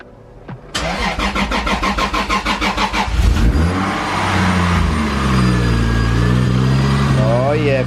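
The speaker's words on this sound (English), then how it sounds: "Well, let's just start the car." A Toyota Supra with a fabricated intercooler cranks over with a rapid, even starter whir for a few seconds. It then catches and settles into a loud, steady idle close by, with a faint rising whine near the end.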